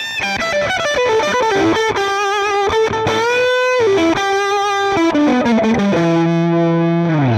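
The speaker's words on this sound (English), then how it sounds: "First up, we've got slapback delay, and this is a real vintagey sound for rock and blues" Electric guitar through a slapback delay pedal set for a vintage rock and blues tone, played as a loud melodic lead line with each note followed by a quick single echo.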